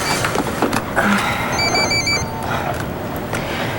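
A house telephone in a palace rings, its bell-like trill sounding in a short burst mid-clip over a busy, noisy background.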